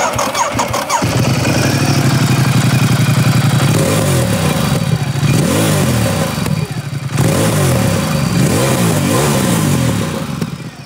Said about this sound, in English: let me give you a little demo of how it sounds